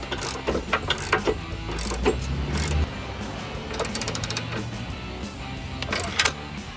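A ratchet clicks in quick, repeated bursts as nuts are tightened on a winch plate bracket of a Jeep Wrangler JL front bumper, close by and fairly loud, with brief pauses between strokes.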